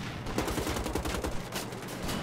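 Rapid gunfire from the video game Wolfenstein: The Old Blood, a dense, loud burst of repeated shots in quick rhythm with no talking.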